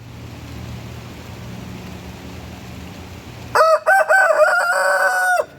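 A rooster crows loudly nearby, a long cock-a-doodle-doo after a few seconds of quiet outdoor background.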